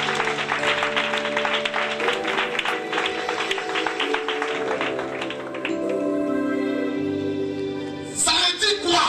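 Church congregation clapping and cheering to honor an apostle, with dense clapping over sustained music-like tones, building and then bursting louder near the end.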